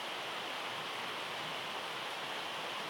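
Rain pours down steadily in Bali, a continuous soft wash of dense droplets with no breaks or changes in intensity, heard alone without talk.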